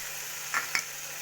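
Water being stirred into a dried-fish curry (karuvattu kuzhambu) in a pan: two quick wet scrapes of stirring over a steady low sizzle, with no voices.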